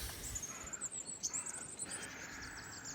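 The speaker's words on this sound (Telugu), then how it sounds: "అక్కడ ఒక బర్డ్ ఉంది." A crow calls outdoors in Wales during a road trip, giving faint, distant caws over a soft background hiss of open air.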